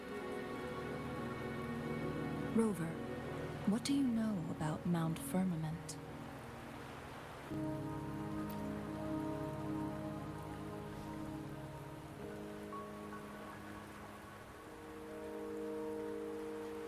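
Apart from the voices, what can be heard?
rain in video game Wuthering Waves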